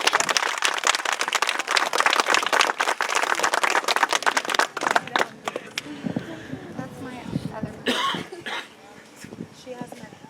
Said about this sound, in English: Let's give the family a round of applause as well, please.